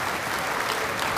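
A studio audience at a live German television variety show claps in a dense, even burst of applause that fills the whole short stretch, with no voices over it.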